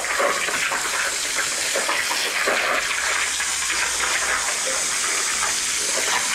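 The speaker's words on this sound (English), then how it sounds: "Kind of just trying to take the garden hose and rinse all the dirt out of it." A garden hose gushes water steadily into a plastic-lined container, rinsing out dirt with a loud, continuous splashing rush that holds even from start to finish with no talking.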